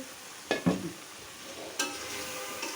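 Pieces of desi chicken drop into a pan of cooked-down spices for korma, giving two sharp clattering stirs and a later scrape over a soft, steady sizzle.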